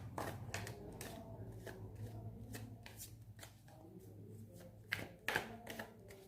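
Tarot cards being shuffled for a reading, a soft steady riffling and sliding of the deck that runs throughout, with a low constant hum underneath and a couple of sharper card snaps near the end.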